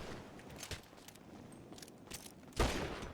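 Gunfire in GTA V on a FiveM roleplay server crackles in scattered bursts at moderate distance, ending with a louder, heavier volley near the close.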